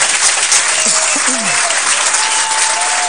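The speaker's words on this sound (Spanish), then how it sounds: "Le damos un aplauso." Sustained studio applause for Los Pumas rugby guests on an ESPN sports show, a dense, loud wash of many hands clapping continuously, with faint voices and a brief whistle-like tone over it.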